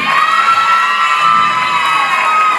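A loud crowd at a college cultural event cheers for stage performers, a sustained roar of shouts and whoops with a long high-pitched yell riding over it.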